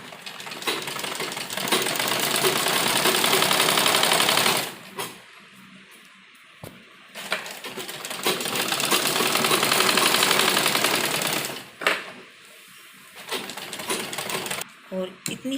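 A sewing machine runs in long continuous bursts while stitching along the edge of a salwar, pausing briefly between passes, loud and close with short stops and restarts.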